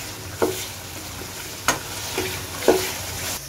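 Beef karahi with tomatoes and spices sizzles in a pan under a constant frying hiss, broken by four distinct spatula scrapes spaced about a second apart.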